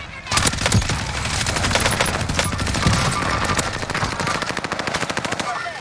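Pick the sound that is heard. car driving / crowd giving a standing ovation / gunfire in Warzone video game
gunfire in Warzone video game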